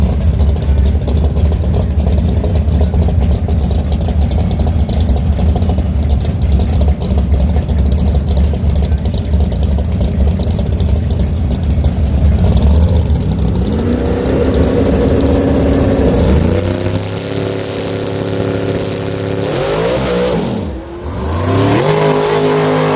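A drag race car named Off the Chains rumbles at a loud, lumpy idle, then revs hard in several rising and falling pulls, close and alone without talk.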